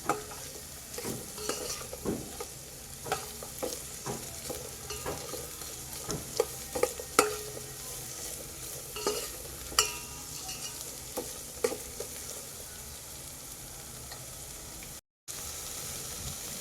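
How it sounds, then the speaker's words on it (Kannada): Ingredients for almond soup fry in a pan with a soft continuous sizzle, while a spoon stirs them in irregular scraping knocks and taps at close range. "ಇದನ್ನು ಸಹ ಚೆನ್ನಾಗಿ ಫ್ರೈ ಮಾಡೋಣ"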